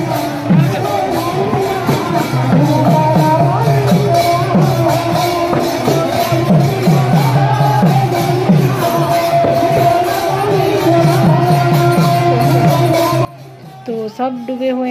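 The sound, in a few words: crowd of devotees singing kirtan at Rath Yatra festival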